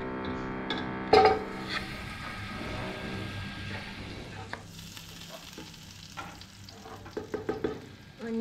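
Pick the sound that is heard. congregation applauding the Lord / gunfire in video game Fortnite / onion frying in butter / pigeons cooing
onion frying in butter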